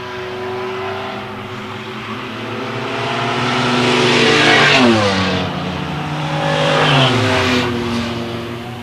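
Race cars at Susky speedway roaring past in a pack, engines swelling loud as they approach and dropping in pitch as they sweep by, with a second wave of cars following close behind.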